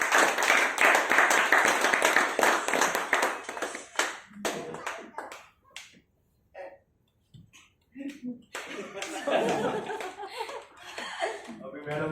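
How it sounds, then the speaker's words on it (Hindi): Audience in a personality development session claps loudly at first, then the applause thins into scattered claps, chuckles and laughter, with voices talking near the end. "जोरदार तालियां एक बार उनके लिए"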